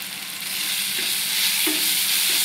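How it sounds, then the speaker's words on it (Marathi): Turmeric and ginger-garlic paste frying in hot oil with capsicum for an egg bhurji, stirred in the pan, giving a steady close sizzle with a few soft scraping touches and no talking. "चांगलं ढवळून द्यायचं"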